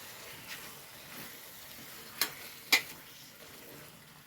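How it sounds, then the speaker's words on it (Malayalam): Fried banana pieces stirred in a pan, a soft sizzle under a few scattered scrapes and two sharp clinks of the utensil against the pan. "ഒന്ന് ഇളക്കി കൊടുക്കുക"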